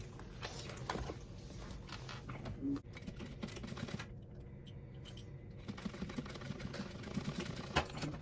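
A sewing machine stitches down the zipper tab of a fabric purse, a quiet, steady mechanical whirring run that continues with small clicks and only brief pauses.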